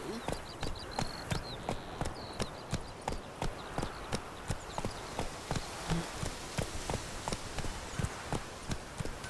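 Steady rhythmic clip-clop of horse hooves as a rider urges the mount on in the video game The Witcher 3, regular even beats at a moderate pace, with faint birdsong behind.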